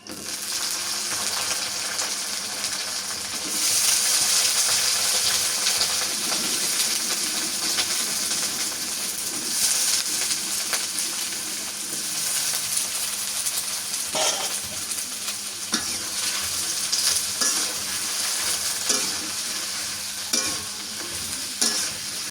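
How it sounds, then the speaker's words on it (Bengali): Food frying in hot oil in a home kitchen, a steady loud sizzle and hiss with occasional stirring scrapes and spatters running throughout, no talk. "তো এখন আগে তেলে আগে ভাজে নিই"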